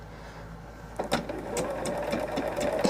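A sewing machine runs through patchwork fabric with a close, steady mechanical whir that starts after a brief pause and carries on continuously to the end.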